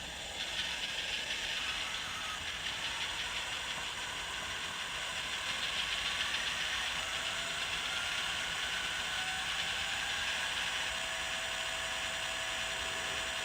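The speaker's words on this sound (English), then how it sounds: "the sound decoder seems to be very good. I like the sound quality of it." Continuous mechanical whirring and ticking from a model train's DCC sound decoder, steady and fairly faint, with a rhythmic chuffing texture and no voices.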